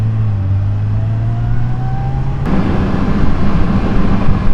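Kawasaki Ninja H2 motorcycle accelerating hard, a loud close engine note rising steadily in pitch before a sharp shift into a rougher, louder roar with heavy wind rush.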